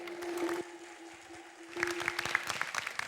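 Studio audience clapping at a Balinese quiz show in Denpasar, a moderate burst of applause that drops off briefly and then resumes with sharper, scattered claps and a few tonal accents.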